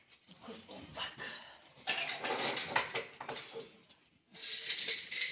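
Dishes, pots and cutlery clatter and clink close by in a home kitchen sink, coming in irregular bursts with running water between, while people talk at times.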